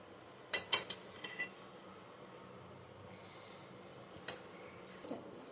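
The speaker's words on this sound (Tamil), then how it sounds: "கடாய் வச்சுக்கலாம். நெய் ஊற்றிக்கலாம்." Metal kadai set on a stove with ghee poured in, a few sharp close clinks and knocks early on, then a quiet stretch broken by two more light taps, no talking.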